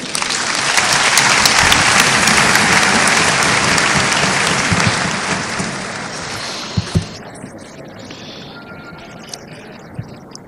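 Sustained applause from a large church congregation, loud and dense at first, then thinning and fading with a few scattered claps near the end.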